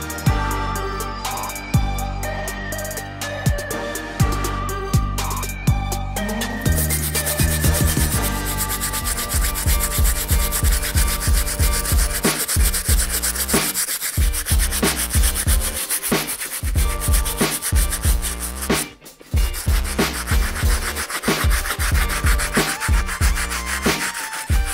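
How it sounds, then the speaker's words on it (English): A stiff bristle brush scrubs the soles of Military Air Jordan 4 sneakers with steady, loud back-and-forth rasping strokes. The scrubbing is up close and continuous, and no voices are heard. "we can start cleaning these soles, starting with the stiff bristle brush"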